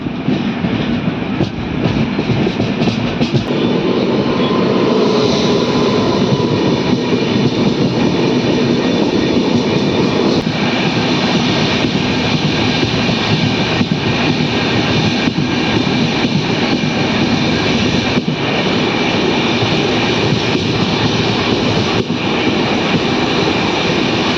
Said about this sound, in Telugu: మునీరాబాద్ నుంచి మన ట్రైన్ బయలుదేరింది